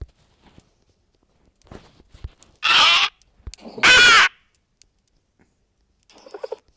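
Birds from a Minecraft birds mod in the video game, two loud harsh cawing calls in quick succession, separated by soft clicks and shuffling sounds in an otherwise quiet scene.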